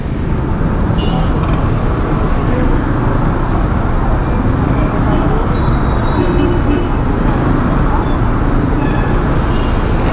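Congested city traffic heading toward Osmeña Highway in Makati rumbles loudly and continuously, a thick close wash of engines and road noise with some talking mixed in.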